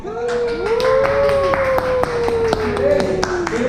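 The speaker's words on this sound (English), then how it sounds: "You can clap now." A scattered handful of people clap at a restaurant tasting stop, the sharp claps spread irregularly while a voice keeps talking over them.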